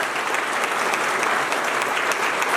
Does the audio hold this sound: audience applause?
yes